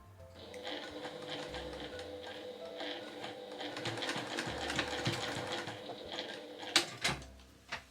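Sewing machine stitching overlapping seam lines on a drawstring bag of Nordic-style fabric, a quiet steady mechanical whir with faint ticking, ending in a few sharp clicks as it stops.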